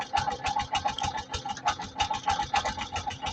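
A used CNG auto-rickshaw engine idling close up, a fast, even, rattling putter with regular pulses and a steady mid-pitched hum throughout, no voices.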